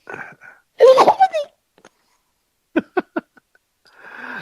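A short burst of a sneeze with a drawn-out nasal wail, followed by a few quick huffs and a faint voice afterward.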